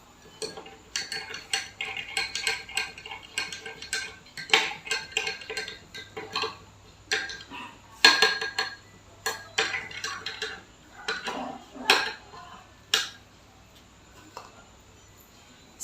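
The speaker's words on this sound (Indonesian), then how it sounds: "Dan setelah itu, kita aduk hingga rata." A spoon clinks and taps repeatedly against a glass while stirring salt into water, in an irregular rhythm, close and fairly loud, with brief pauses between bursts of stirring.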